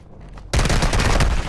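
Heavy burst of automatic gunfire in Call of Duty: Modern Warfare II erupts after a half-second of quiet, loud and sustained with rapid overlapping shots to the end.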